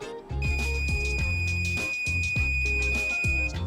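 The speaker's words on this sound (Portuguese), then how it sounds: "Mais um bip." A steady high-pitched electronic beep tone sounds continuously while rhythmic music with heavy percussion plays underneath.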